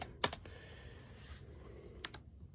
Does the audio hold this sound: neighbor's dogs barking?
no